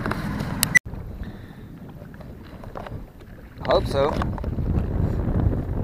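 Outdoor wind buffeting the microphone on a lake with a steady broadband rush, a brief sharp knock near the start, and a short spoken reply partway through.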